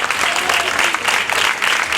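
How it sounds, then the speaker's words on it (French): A crowd at a fairground beauty pageant appearance gives dense, lively clapping that runs continuously for a couple of seconds, fairly close and loud, with no speech over it. "Marion, sous vos applaudissements"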